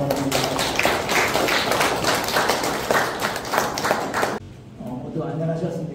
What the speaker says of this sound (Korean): 모두 박수로 맞아주시기 바랍니다.